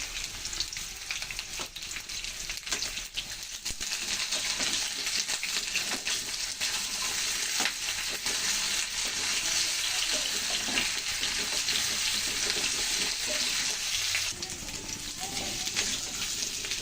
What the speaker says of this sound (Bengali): এখন দিয়ে দিচ্ছি কেটে রাখা বেগুনগুলো, আর দিয়ে দিচ্ছি কাঁচা লঙ্কা।